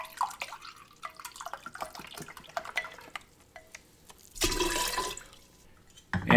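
Passion fruit juice pouring into a Halloween punch bowl, a steady liquid rush for about two seconds after scattered drips and light clinks, close and alone.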